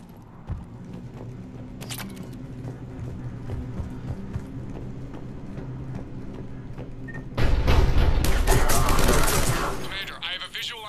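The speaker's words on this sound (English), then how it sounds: "The cannon fire is clearing the way." Heavy cannon fire and combat in Mass Effect 3 Legendary Edition on Tuchanka, with scattered booms and gunfire building to a loud, dense burst of blasts near the end.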